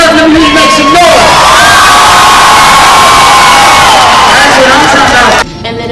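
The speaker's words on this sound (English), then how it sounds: "Y'all ready to turn up? Let me make some noise." Crowd at a dance competition cheering, whooping and shouting loudly and continuously, with excited yells layered on top until it drops off abruptly near the end.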